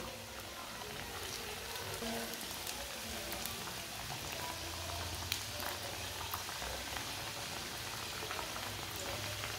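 Samosas frying in oil over low heat, a steady, soft bubbling sizzle that stays even and continuous throughout with no talking.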